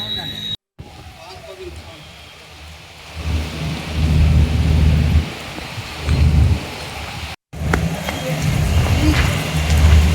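Heavy rain following a sandstorm pours down loud and steady with deep rolling thunder, the downpour swelling in waves and broken by two brief silent gaps.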